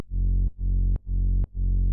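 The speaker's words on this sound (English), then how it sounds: "you take a saturator and you put it on hard curve, which like sounds like this." Sub bass pushed through a saturator set to a hard curve plays four sustained, heavily distorted notes, each cut by a short gap with a click. The tone is dense, buzzing and loud, with no voices.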